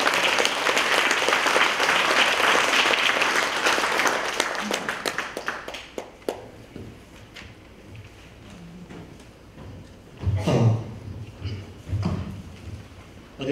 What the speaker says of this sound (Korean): 따스한 박수로 함께해 주십시오.